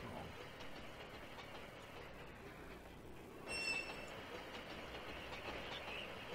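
A train runs along the track in the A-Train 9 railway simulation game, a faint, steady rumble of wheels and rail noise with a brief metallic squeal midway and no talking.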